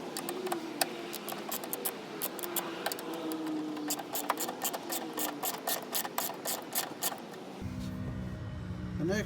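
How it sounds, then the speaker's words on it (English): A hand ratchet clicks rapidly as 13 mm bolts come off a brace on a Chevy Silverado, close and steady with repeated bursts of sharp pawl ticks, ending in a lower mechanical rumble. "we're going to have to get rid of this brace, which is 4 bolts, 2 here, 2 here, and they are all 13 millimeters"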